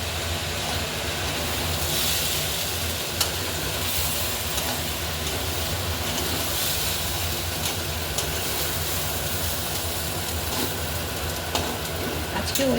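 Khichuri cooking in a pan gives off a steady, broad hissing sizzle and steam after a little water has been added, continuous and fairly close throughout.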